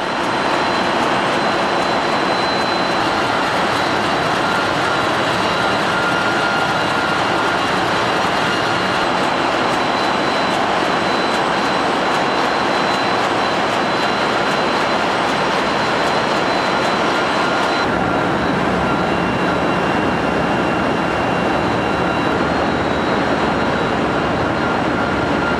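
A container ship's giant 8-cylinder, 33,000-horsepower main engine roars in the engine room, a deafening, steady mechanical drone with no pauses for the whole stretch.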